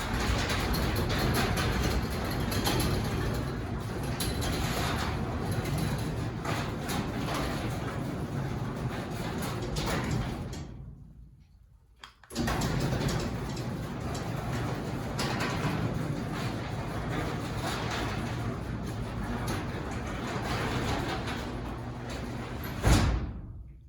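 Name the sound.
new Chamberlain B500 garage door opener running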